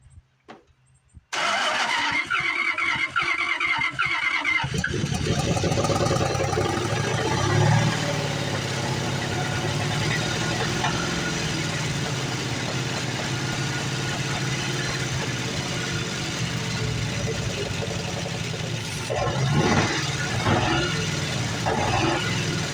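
A 1982 Dodge Ramcharger engine cranks, catches and roars to life, then keeps running at a rough, loud idle for about twenty seconds, with a brief rev near the end.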